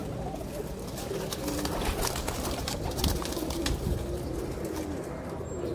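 Ali Wale (Imam Sahib breed) pigeons coo softly and steadily throughout, several birds overlapping in a low murmuring chorus with faint chirps above it.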